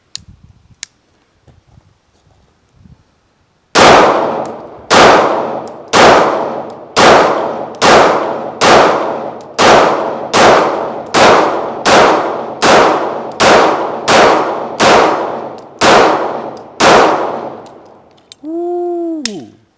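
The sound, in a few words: Staccato CS pistol shots hitting steel targets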